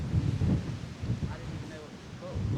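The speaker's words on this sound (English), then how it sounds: "It is so windy out here" Strong wind buffets the microphone on a seaside headland, a continuous low roar with gusty swells, while a person talks over it.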